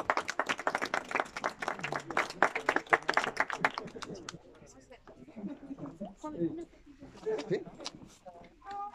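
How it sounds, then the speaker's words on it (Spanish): Audience at a gastronomy congress in Cajamarca applauds, with loud, brisk clapping for about four seconds before it dies away into murmured talk and voices. "Aplauso, por favor."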